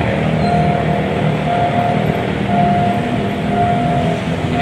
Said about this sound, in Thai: ขบวนรถไฟ กำลัง เข้าจอดที่อยู่รถอโศกนะครับ